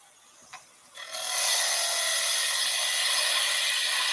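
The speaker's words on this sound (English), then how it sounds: "I'm going to find out how much wood I have available by just making a clean cut across the bottom" Wood lathe tool cutting straight across the bottom of a spinning wood blank, starting with a couple of faint taps and then rising into a steady, loud, bright shearing hiss that holds without pause, close up and with no talk.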